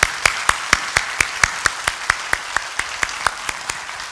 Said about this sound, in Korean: 우리 감사의 박수 한번 보낼까요?